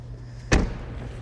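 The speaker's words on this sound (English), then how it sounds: "let's go ahead and close the door of the car" A Tesla P100D car door swings shut with a single solid thud, loud and close, followed by quiet, steady background hum.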